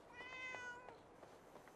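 A cat in Fallout 4 gives a clear, high meow followed by a few shorter softer mews, close and alone without talk.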